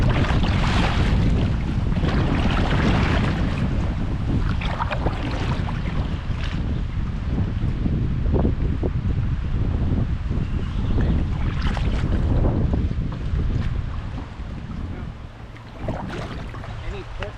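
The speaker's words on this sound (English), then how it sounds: "It's quite windy." Strong wind buffets a small boat out on a lake, a steady roar of gusts and microphone buffeting with water sloshing against the hull, and voices talking briefly underneath.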